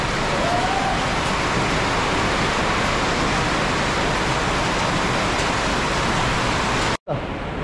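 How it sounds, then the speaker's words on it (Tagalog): Heavy, steady downpour from Typhoon Christine with little wind, a dense continuous hiss of rain in Pandi, Bulacan, broken by a brief cut near the end. "Lakas ng ulan, ito na po yung bagyong dito."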